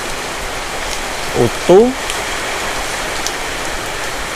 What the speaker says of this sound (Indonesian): Ini hujan.